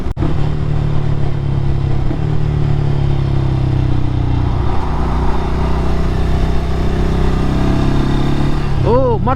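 A 2024 Ducati Scrambler cruises on a bypass road at about 70 mph and just over 4,500 rpm, its steady loud engine drone mixed with heavy wind roar throughout.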